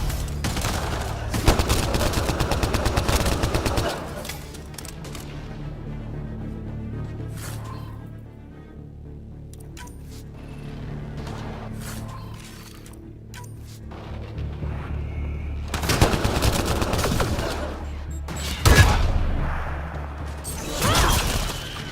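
Enemy gunfire in the Mass Effect Andromeda video game, with loud bursts of rapid automatic shots at the start and again near the end, separated by a quieter stretch of scattered distant shots.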